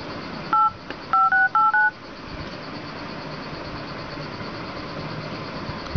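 A Galaxy S2 running a CyanogenMod 11 custom ROM themed like iOS 7 plays crisp dial-pad tones: five quick, distinct beeps in a brief burst, followed by quieter background hum.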